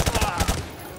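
Gunfire in the first-person shooter Call of Duty Modern Warfare 2, a rapid burst of several loud shots in the first half second, then fading into rumbling battle noise.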